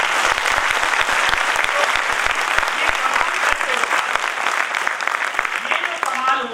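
Audience applause at a motivational speech: dense, loud, sustained clapping from a crowd that runs steadily throughout with no letup.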